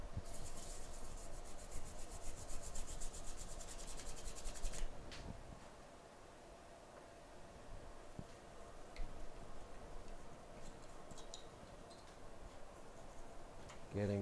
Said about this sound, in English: So now I just clean the board